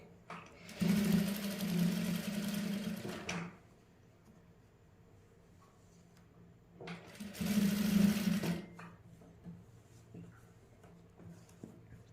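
A sewing machine stitches a patch onto a garment neckline in two bursts of a few seconds each, loud and close, with quiet pauses between them.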